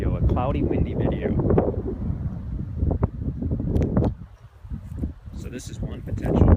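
Gusty wind buffets the microphone outdoors on a cloudy day at a rural building site, giving loud low rumbling bursts that dip briefly before surging again.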